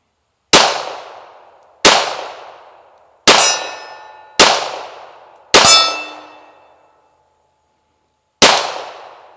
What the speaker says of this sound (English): Shoot one-handed here.